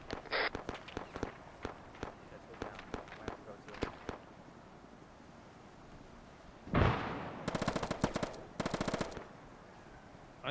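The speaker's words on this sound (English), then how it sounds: "That's them firing." Gunfire in the Arma 3 video game: scattered single shots and short bursts early, then a loud blast and two rapid automatic bursts, some distant and some close, with footsteps and speech in between.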